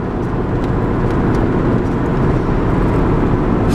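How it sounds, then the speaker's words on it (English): An old car cruising down the road at 70 on worn tires, a loud, steady rumble of engine and road noise with wind roar, constant and close from inside the cabin. "we're rolling 70, dude. We're going right down the road."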